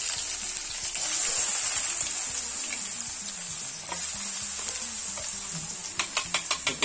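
Onion frying in hot oil with cumin and bay leaf, a steady close sizzle with stirring and a few sharp clinks toward the end, no talking.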